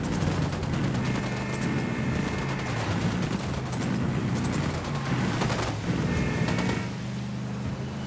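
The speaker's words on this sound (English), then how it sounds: "Opening fire on these shitheads." Video game gunfire, rapid bursts of shots crackling over a dense rumbling battle backdrop, sustained and loud through most of the stretch with a brief lull in the middle.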